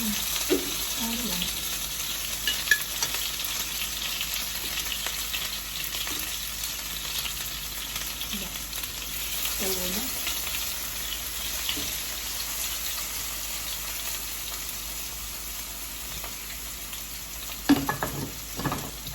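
Onion and tomato frying in a pan for a Spanish dish, giving a steady, even sizzle throughout with a few soft stirring clatters near the end.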